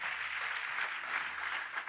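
A church congregation applauds during a sermon, with steady continuous clapping from many hands that stays fairly close and even for the whole short stretch.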